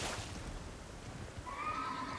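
A horse neighs in the video game Elden Ring, a clear whinny rising over a low background rumble toward the end, moderately loud and heard alone without speech.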